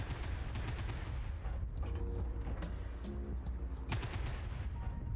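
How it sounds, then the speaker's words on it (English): The Clan Ultra AC20 autocannon fires in MechWarrior Online, a dense run of heavy gunfire and explosive blasts over a constant loud rumble of battle noise. "And here is the Clan Ultra AC20. Shooting 4 projectiles at 5 damage each."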